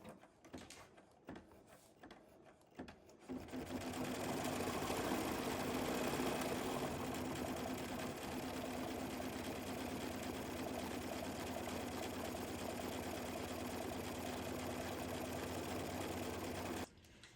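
An embroidery sewing machine stitches a satin cover stitch on a quilt block: after a few clicks and handling knocks, a fast, steady mechanical whir starts up close and runs evenly, then stops abruptly.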